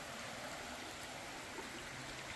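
Water rushes in a continuous broadband hiss near Middle Falls in Kentucky's Red River Gorge, a steady close stream flow with no voices.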